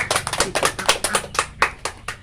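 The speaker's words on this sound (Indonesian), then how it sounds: "Tepuk tangan dulu untuk Ibu Mega." A small group claps for Ibu Mega during a session on fetal stimulation, with distinct, sharp, slightly uneven claps sounding close and clear in a short, lively burst.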